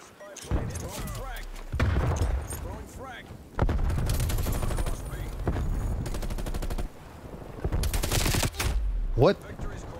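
Repeated bursts of automatic gunfire in the video game Call of Duty Black Ops Cold War, several loud volleys separated by short gaps, with a player's voice talking between and over the shots.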